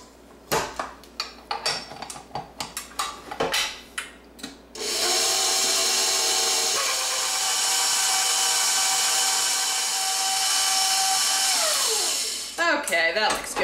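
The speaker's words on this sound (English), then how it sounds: "now onto the mixer for about 6 minutes" A stand mixer whirs steadily for several seconds, mixing a bread dough slurry for white sandwich bread, after scattered kitchen knocks and clatter; the motor hum starts abruptly and winds down at the end.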